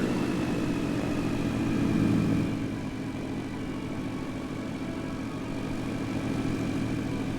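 Diamond DA 40NG propeller airplane engine in flight, a steady loud cabin drone with constant propeller hum that swells slightly early on and then holds evenly, with no talking.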